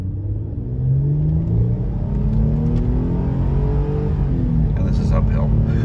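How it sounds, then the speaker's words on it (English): A Mercedes fitted with an electronic throttle controller pulls away gently, its engine rising in a smooth, loud, close hum with a steady low rumble and gradual climbing pitch. "I'm going to accelerate by just barely pushing the throttle pedal."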